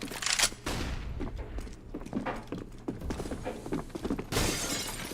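A flashbang grenade going off in the video game CS:GO, a sharp bright burst near the start, then a busy spread of shattering, popping gunfire-like impacts and scuffling footsteps, with a second bright burst near the end.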